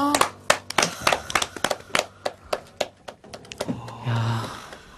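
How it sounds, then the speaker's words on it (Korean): A few people in a radio studio clap after a song, distinct separate hand claps in a steady patter that tapers off, followed by a brief voice. "박수로 챙겨드릴게요"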